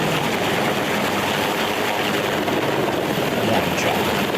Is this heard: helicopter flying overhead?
yes